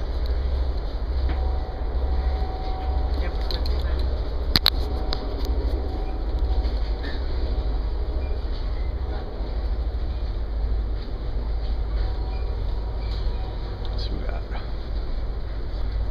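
Steady low rumble of an Amtrak passenger train rolling along the tracks through the Indiana countryside, heard from inside with a constant droning hum and occasional faint clicks and rattles.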